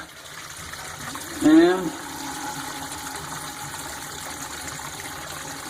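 Water drains quickly down a bathroom sink after a clogged trap is cleared: a continuous rushing wash of flowing water runs throughout, with a short voice near the start.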